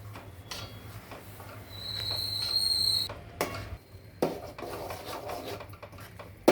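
A spoon scrapes and stirs crushed moong dal and rava around the bottom of a pot in irregular strokes, over a low steady hum and faint kitchen clatter.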